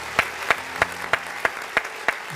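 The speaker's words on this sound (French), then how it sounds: "On va applaudir pour ça." An audience on a live TV studio set claps in unison: seven sharp, evenly spaced claps in a steady rhythm over a quiet background, with no talking.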